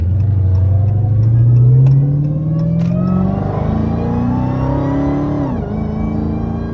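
Dodge Hellcat with a mid-muffler delete revving below full throttle, its loud exhaust note climbing steadily in pitch over several seconds, then dropping off sharply as the throttle lifts, close by and with no talking.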